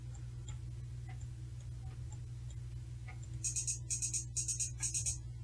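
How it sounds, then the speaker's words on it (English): Metronome set to click on the offbeat, starting as faint ticks over a low hum and then turning into loud, bright, evenly spaced pulses near the end, with no talking. "we put the metronome on to help us be able to see what it sounds like on the offbeat"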